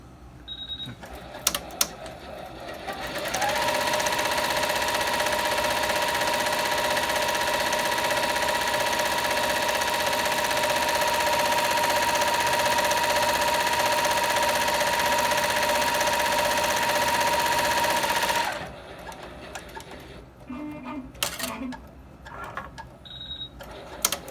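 A Barudan Pro 3 single-head embroidery machine runs at a steady, rapid mechanical rhythm for about fifteen seconds, starting and stopping with quieter clicks and handling noises on either side.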